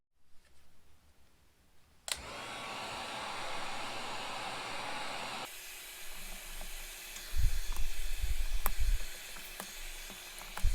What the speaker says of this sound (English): Just make sure you don't get too aggressive with a heat gun, because it don't take much heat to get these off